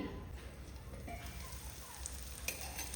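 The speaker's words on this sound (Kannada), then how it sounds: "ಫ್ಲೇಮಲ್ಲಿ ಮುಚ್ಚಳ ಮುಚ್ಚಿ ಮೊಟ್ಟೆ ಕಾಯಲಿಕ್ಕೆ ಬಿಡುವ ಮೊಟ್ಟೆ ಫ್ರೈ ಆಗಲಿ" Eggs frying in a covered pan over a flame with coriander leaves scattered on top, giving a steady, soft sizzle with faint crackles throughout, no voices.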